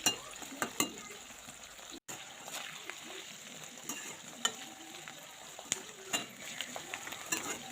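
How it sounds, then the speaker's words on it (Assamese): Garlic frying in oil for homemade chicken pickle, a faint steady sizzle with spatula scrapes and occasional clinks against the pan, briefly dropping out once. "এতিয়া নহৰুখিনি দি মেলি আকৌ ভালদৰে লৰাই থাকিব লাগিব।"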